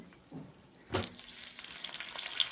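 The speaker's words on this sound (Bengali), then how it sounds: "কড়াইয়ে তেল ছেড়ে দিয়েছি, তেল গরম হয়ে গেছে। এবারে পটলটা লাল করে ভাজি নেব।" Pieces of pointed gourd drop into hot oil with a sudden burst of sizzling that keeps crackling and spitting steadily, close by and without speech.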